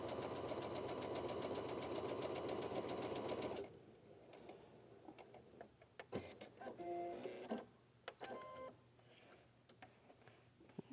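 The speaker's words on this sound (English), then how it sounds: "Come around, sew the bonus one." Sewing machine running steadily while stitching a Variable Star quilt block, a loud continuous whir for the first few seconds, then stopping and giving way to quieter handling clicks and rustles of fabric.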